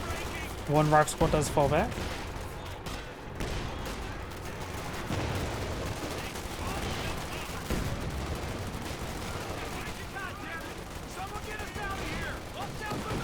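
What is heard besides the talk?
Panzerwerfer rocket barrage in video game Company of Heroes 2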